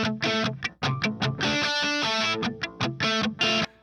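Electric guitar played through a heavy echo effect in a soaring style, bright repeated notes ringing out in a loud, continuous rhythmic pattern with trailing repeats, no voices.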